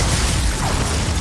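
The Confringo fire spell blast in the video game Hogwarts Legacy, a loud, dense, roaring burst of explosive noise that fills the whole moment without a distinct start or end, with no talking.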